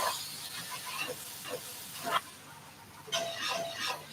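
Suugo Suqaar sauce sizzles in a pan after the heat is turned down, soft hissing and crackling with a few louder bursts of spatter, close and with no talking.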